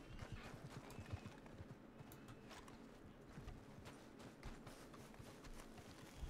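A horse gallops in the Red Dead Redemption 2 video game, its quick, rhythmic hoofbeats running continuously and faintly beneath a dense layer of game ambience.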